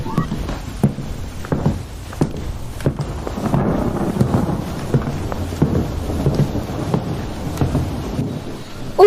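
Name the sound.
heavy rain with thunder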